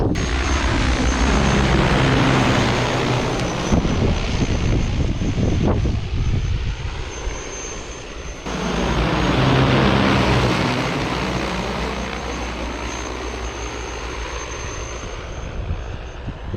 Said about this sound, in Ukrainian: Біжу під дощ дрона, щоб показати, як він кропе.